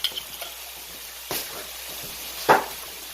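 Chinese takeout-style BBQ wings being stirred in a pan, heard as a low background sizzle with two short, sharp scraping bursts spaced about a second apart.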